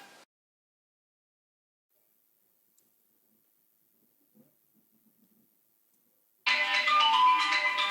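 After several seconds of near silence, a mobile phone ringtone suddenly starts loud and close with a bright musical tune, signalling one of a series of repeated incoming calls.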